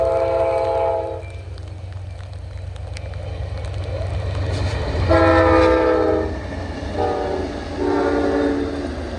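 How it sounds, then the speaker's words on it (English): Eastbound Amtrak California Zephyr passing near Sacramento, a deep steady rumble of locomotives and cars with several loud, long horn blasts sounding from close by. "Here's the eastbound California Zephyr"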